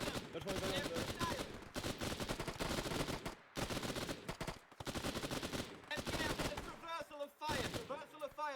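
Sustained suppressive gunfire from rifles and machine guns in a war video game, dense rapid bursts hammering almost continuously at close range, with brief pauses, shouted voices mixed in.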